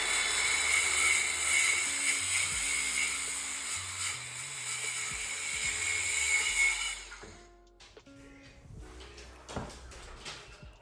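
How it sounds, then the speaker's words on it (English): A circular saw cuts off the bottom of a door laid on its side, a loud steady whine for about seven seconds that then winds down, followed by a few light knocks. "just cut it off with a circular"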